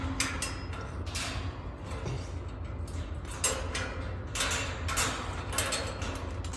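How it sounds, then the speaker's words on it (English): A small pet bird works at unscrewing a plastic perch inside its cage, making close, irregular clicking, scraping and ratcheting mechanical sounds in short bursts with no talking. "trying to unscrew the perch, which is the noise you're hearing"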